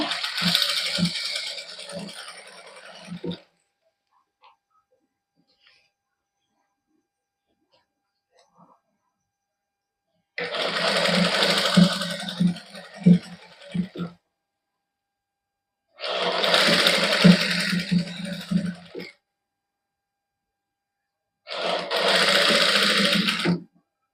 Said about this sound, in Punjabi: ਹੌਲੀ ਹੌਲੀ ਸਿਲਾਈ ਲਾਉਣੀ ਹੈ ਇੱਕੋ ਜਿਹਾ ਵਿੱਚ ਦੇਣੀ ਹੈ ਲੈਸ